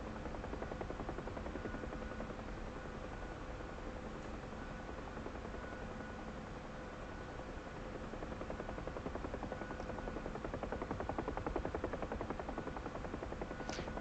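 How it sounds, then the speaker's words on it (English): A helicopter in the DCS flight simulator makes a steady, faint rotor buzz and whine that holds evenly for the whole stretch with no talking. "most definitely insanely hard to fly this helicopter"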